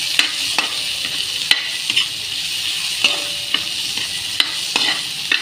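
Garlic and onions frying in a pan, stirred with a utensil: a steady close sizzle throughout, broken by regular scraping clicks of the spoon against the pan, with no talking.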